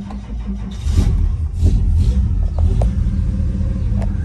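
A 1950 Chevy Deluxe hardtop with a 235 engine cranks and fires up, a low, close rumble that swells and settles into a steady idle with a few small clicks.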